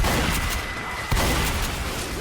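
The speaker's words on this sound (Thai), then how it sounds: "เออเรียบร้อยระเบิดไปแล้ว" An explosion in a Minecraft-style video game: a loud, broad rumbling blast fills the whole stretch, with a fresh thump about halfway through, heard on its own without talk.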